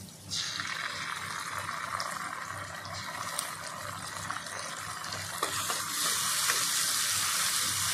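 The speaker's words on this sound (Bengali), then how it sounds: "ভালো করে 2 মিনিট আমি কষিয়ে নেব।" Ground cumin paste with chilli paste sautéing in a pan, a steady close sizzle and crackle with occasional scraping stirs, no voices.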